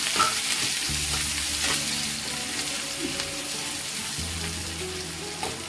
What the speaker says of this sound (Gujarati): ડુંગળી મરચું સમારીને રાખી દઈએ એડ કરી મસ્ત સાતડી લઈએ